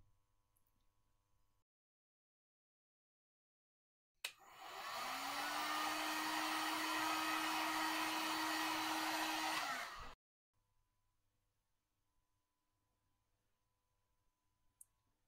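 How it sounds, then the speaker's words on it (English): A heat gun blowing on an acrylic paint pour switches on with a click and runs as a loud, steady whooshing roar with a constant whine for about six seconds, then clicks off into near silence. "And after that, I'll use heat gun."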